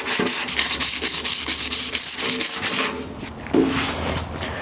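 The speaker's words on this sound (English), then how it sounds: "I'm just gonna do a little scratch with some sandpaper so I can see my highs and my lows." Sandpaper rubs rapidly back and forth across a dented car body panel in a quick, even rhythm of about a dozen loud, close strokes, then stops and leaves some softer handling noise.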